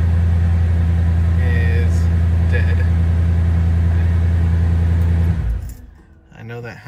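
A Mercedes SL500 engine runs steadily while the car drives, a loud continuous low hum dominating for about five seconds before cutting off abruptly, with faint rattling tones in the background.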